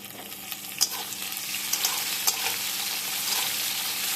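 Chopped tomatoes and curry leaves frying in a pan for mango chicken, a steady close sizzle broken by a few sharp spatula taps and scrapes, with no talking.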